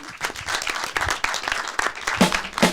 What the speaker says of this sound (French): On applaudit Ménel